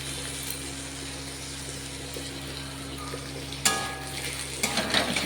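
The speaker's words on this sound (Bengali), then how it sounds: "এবার এর উপর আমি রসুন বাটাটা দিয়ে দেবো।" Chicken fries in a pan with a steady, close sizzling hiss. Garlic paste is then added, bringing a sudden louder burst of sizzle and spatter followed by stirring noises.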